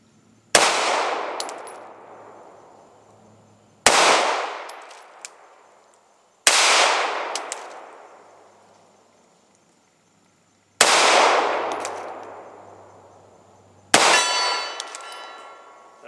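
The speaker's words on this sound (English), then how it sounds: "we're gonna fire 20 rounds and see what we do at distance" A CZ 2075 RAMI pistol firing at steel targets, five sharp, loud reports spaced a few seconds apart, each followed by a ringing metallic clang that decays slowly, with no talking.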